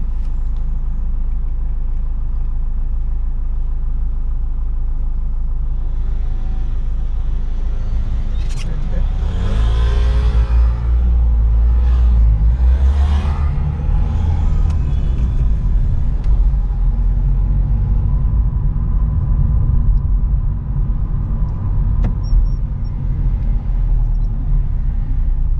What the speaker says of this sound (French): Pense à bien accélérer et à maintenir le point de patine.